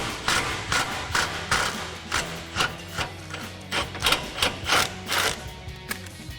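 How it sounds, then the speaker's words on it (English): A 13mm swivel socket on an extension ratchets out an exhaust hanger bolt on a 2024 Ford Mustang GT, giving a close series of quick rhythmic clicks and knocks repeating through the clip. "So I've got a 13mm swivel socket on an extension to pop this off."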